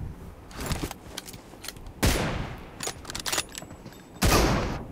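Gunfire in the battle game PUBG during a one-on-one room match with the M24 rifle: several bursts of broadband shots, with sharp loud blasts near the two-second and four-second marks amid quieter scattered reports, no talk.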